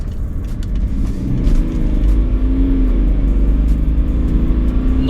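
A BMW 530d diesel with M Sport bumpers pulling hard away from a junction, a loud close engine drone building steadily as the car accelerates, no talking.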